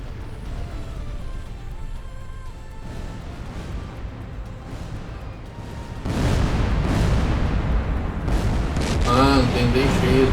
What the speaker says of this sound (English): I know I can hear still some explosions